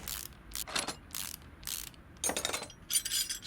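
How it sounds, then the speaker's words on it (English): A brake caliper is unbolted in the PC game Car Mechanic Simulator 2018, heard as a series of bright metallic ratcheting bursts from a wrench, about six short clicking runs separated by brief pauses, close and clear. "So let's get the brake caliper off."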